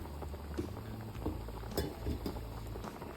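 Fish curry bubbling in a pot on the stove, a faint continuous simmer with soft popping bubbles and a few light clinks, no voices.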